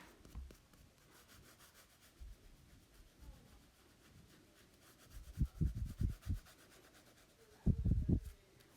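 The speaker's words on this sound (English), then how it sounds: "I'm going to go really lightly and use the side of my crayon and just kind of color that in" A crayon rubbed lightly on its side across paper to shade in sand, producing soft scratchy strokes that come in short bursts, louder clusters near the end, with quiet gaps between.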